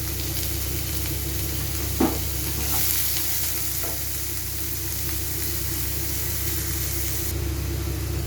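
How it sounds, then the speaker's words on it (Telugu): Sliced onions and a green chili fry in a pan of oil for an egg and potato curry, giving a steady broadband sizzle with one brief clink of a stirring utensil near the start. "ఉల్లిపాయ, పచ్చిమిరపకాయ, నేను ఒక పచ్చిమిరపకాయ 2 ఉల్లిపాయలు వేస్తున్నానండి"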